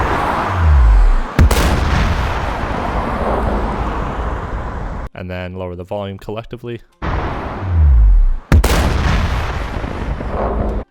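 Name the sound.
library explosion sound effects for a video game animation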